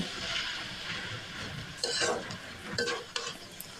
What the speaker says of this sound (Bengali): নুডলস দিয়ে নাড়াচাড়া করে নেব, ভালোভাবে সব কিছু মিশিয়ে নেব।